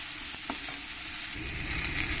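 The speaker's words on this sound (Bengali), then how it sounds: "আর দিয়ে দেবো একটু হলুদ আর দিয়ে দেবো দুটো তিনটে কাঁচা লঙ্কা দিয়ে ভালো করে আবার আমি আলুগুলোকে একটু সময় করে ভেজে নেব" Potato pieces fry in a pan with turmeric and green chillies for a fish and ridge gourd dish. A close, crackling sizzle comes with a few light stirring knocks early on, and the frying grows a little louder toward the end.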